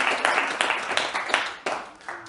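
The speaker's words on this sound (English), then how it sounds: "I was expecting you to clap right there." Audience at a book launch speech claps in a short, ragged burst of applause lasting a couple of seconds, fairly close and loud with overlapping hand claps.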